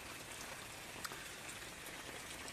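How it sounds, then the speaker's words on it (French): Heavy rain pours down steadily outdoors during flooding, a dense, even hiss of drops with no voices, heard up close. "Et ça pleut, ça s'arrête pas depuis ce matin"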